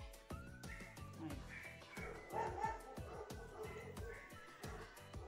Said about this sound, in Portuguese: Por isso tem esse barulhão, os cachorros latindo